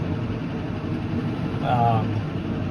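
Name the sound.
tractor engine idling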